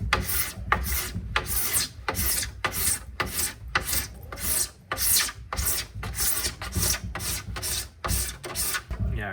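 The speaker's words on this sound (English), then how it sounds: "Another way to sharpen a scraper, especially on a brand new edge." A snowboard scraper's brand-new edge being sharpened with repeated rhythmic rasping file strokes, about a dozen harsh back-and-forth scrapes, close and loud with no talking.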